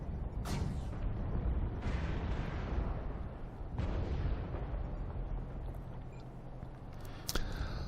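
Missile explosions in the video game Mechwarrior Online, heard as three or four heavy booming bursts spread over several seconds above a dense rumbling battle din, with a sharp crack near the end.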